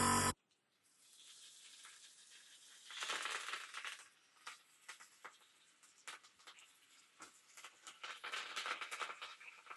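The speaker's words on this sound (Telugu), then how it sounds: "ఇవన్నీ వేసుకుని చిటపట్లాడే వరకు కూడా వేయించుకుందాము" Tempering spices, crushed garlic and curry leaves fry in hot oil for a Telugu snake gourd curd chutney, giving a steady close sizzle with scattered crackles and pops that grow busier after a short splashy start.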